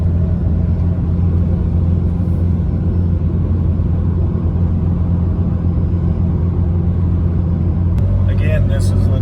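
A truck fitted with an Allison transmission and running without a trailer climbs a hill, its engine giving a loud, steady low drone from inside the cab, with a slight change in tone near the end.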